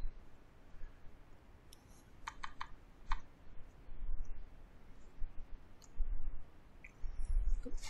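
Mouse clicks on a computer during a Windows 10 installation, a few quick isolated clicks in a brief cluster early on, close and fairly quiet over low background hiss.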